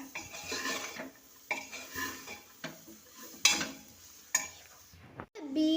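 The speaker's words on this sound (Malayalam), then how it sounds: "മല്ലിച്ചപ്പ് അതും കൂടി ഒന്ന് മിക്സ് ആക്കട്ടെ" Coriander leaves stirred into beef curry masala in a pan: a spoon scrapes and clatters against the metal in irregular strokes, with a few sharp clinks and a faint sizzle, close and fairly quiet.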